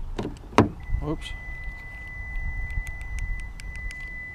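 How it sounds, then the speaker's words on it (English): A 2016 Kia Optima SXL Turbo sounds a steady electronic warning tone because its hood is open, with a few sharp clicks and brief talk at the start, then repeated high beeps continuing. "Oh, I got the hood open. That's why it's beeping."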